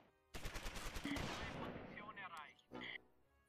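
Gunfire rattles in the Close Combat war game: a dense volley of rapid machine-gun bursts and shots, loud and close at first, then thinning into scattered cracks and a final short burst.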